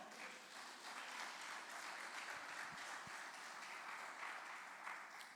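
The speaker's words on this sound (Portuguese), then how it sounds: "As palmas para o Senhor." A church congregation applauds in a sustained, even wash of clapping lasting several seconds, with a few louder individual claps standing out near the middle.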